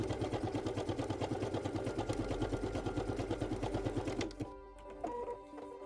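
A Pfaff Creative Ambition 640 sewing machine stitches fabric at a width of 5, a steady rapid mechanical purr that stops abruptly near the end, leaving quiet clicks.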